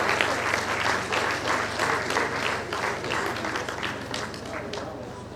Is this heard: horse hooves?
no